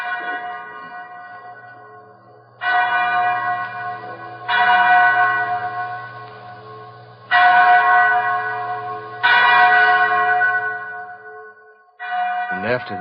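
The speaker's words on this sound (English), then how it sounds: "that's the chapel bell" A chapel bell tolls repeatedly in a slow, uneven series of loud, ringing strikes, each note decaying into a long resonant hum before the next, clear and close.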